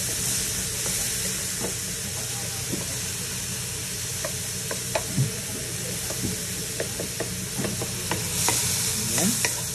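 Tomatoes being crushed and stirred in a frying pan while cooking crispy pork tail with shrimp paste, a steady sizzle with soft scraping and spoon taps throughout.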